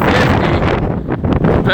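Strong wind gusts of 56 mph roar and buffet against the microphone, making loud, ragged rushing noise throughout with a voice partly heard under it.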